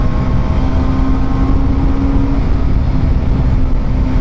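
A TVS Apache RR310 motorcycle in sports mode gives a loud, steady engine drone with a sustained low rumble and a constant pitch, close by, with no pauses.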